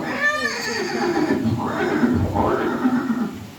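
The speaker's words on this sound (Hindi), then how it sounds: "ये दृश्य महाराणा प्रताप और सुविख्यात स्वामी भक्त घोड़े चेतक के अंतिम मिलन का है" A horse neighs in a staged scene of Maharana Pratap and his horse Chetak, with loud, drawn-out whinnies that rise and fall over a busy background murmur.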